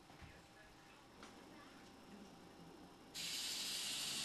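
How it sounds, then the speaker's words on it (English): Cooking spray bursts onto a pancake pan as a loud, steady hiss that starts late and runs to the end, following a stretch of quiet room noise. "Just spray all over it."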